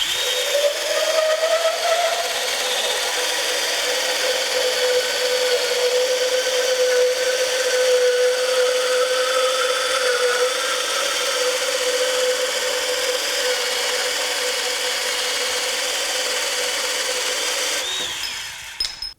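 A Bosch 18-volt compact portable band saw with a 2-1/2 inch capacity runs in one continuous cut, a steady whirring whine that holds for about eighteen seconds before winding down and stopping.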